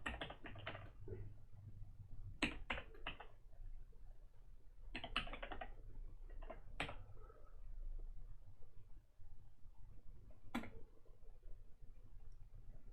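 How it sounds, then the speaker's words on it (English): Steady typing on a computer keyboard, a quiet near run of soft key clicks in bursts with short pauses, no voices. "So let me type out the name."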